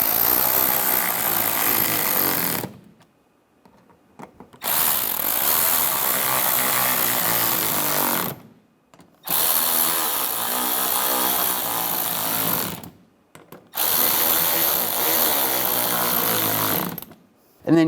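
Power tool tightening headlight bolts on a 2011-2019 Ford Explorer, loud whirring bursts of about two to four seconds each, separated by short pauses, heard up close.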